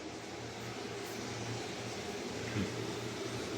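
An electric blower fan runs in a small room, a steady low mechanical whir with a constant broadband airy hiss, moderately close and unbroken, with no one talking.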